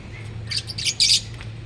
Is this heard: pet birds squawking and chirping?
yes